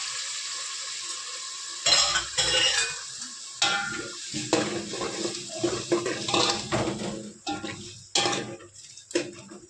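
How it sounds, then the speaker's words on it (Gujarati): Water poured over ground spices (garam masala, turmeric, coriander-cumin and chili powder) in a cooking pot for a jinga akni, with a series of close splashing and stirring bursts, clinks of utensil on metal and a low sizzle. "ને થોડું પાણી એડ કરશું ઉપરથી"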